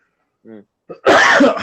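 A brief voiced sound, a short pause, then one loud, harsh, explosive cough close to the microphone.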